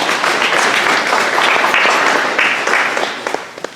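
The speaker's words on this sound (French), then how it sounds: "Nous pouvons les applaudir et les remercier." Church congregation applauding during a Sunday Lent Mass at a parish in Brossard, a dense, steady wash of clapping that carries throughout and thins slightly toward the end.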